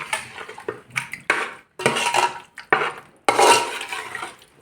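Food ingredients being mixed together in a pot for a marinade. Repeated scraping and clattering strokes come in bursts with short pauses, close and fairly loud, and no one speaks.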